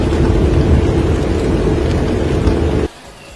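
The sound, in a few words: tropical rain shower in Samoa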